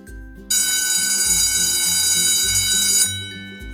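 A loud electric school bell rings continuously for about two and a half seconds, then cuts off, with low music playing underneath before and after.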